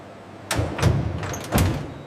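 Hyundai Ioniq 5 car door shut during factory door-seal testing, a few solid thuds about a second apart with a short rattle between them, close and fairly loud.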